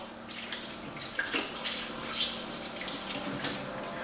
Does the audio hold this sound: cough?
no